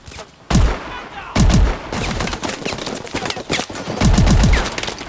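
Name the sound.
auto shotgun firing in video game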